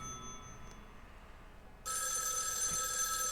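A telephone starts ringing partway through in the ghost-hunting game Spirit Hunter: NG, a loud continuous electronic bell ring that cuts in sharply over a quiet, hissy background.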